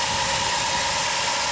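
Dodge Caravan engine running at a high idle with the throttle held slightly open, a steady close hum that neither rises nor falls and carries no voices.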